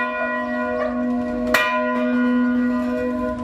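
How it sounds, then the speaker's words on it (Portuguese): Church bells ring at the Paróquia Santuário de Nossa Senhora da Conceição in Ouro Preto, Minas Gerais, a steady sustained peal with one louder strike partway through, alone and moderately loud. "Os sinos anunciaram a nomeação."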